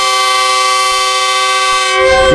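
A GU20 locomotive horn blares loudly and continuously, a steady multi-tone blast held for the whole stretch, close and powerful, at Taxila Cantt Junction railway station.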